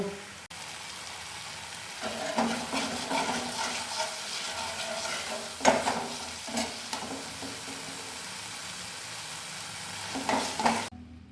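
A spiced curry mixture for raw jackfruit kofta curry is sautéed with salt in a pan, sizzling softly under spatula scrapes and stirring bursts that come at irregular moments, close and moderately quiet.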